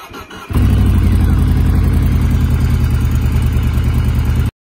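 A Yamaha V-Max 1800 motorcycle engine fires up after a brief rumble and settles into a steady, loud, deep exhaust burble close by, then cuts off abruptly.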